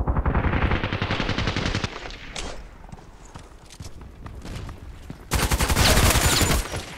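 Bursts of rapid automatic fire from an FN SCAR-L in the shooter game Contract Wars, loud and close: a long burst, a quieter stretch of scattered shots, then another dense burst.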